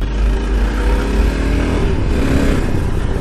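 A Himalayan-copy motorcycle engine runs at half throttle, giving a loud, steady, close-up drone with no change in pitch for the whole stretch. No one speaks.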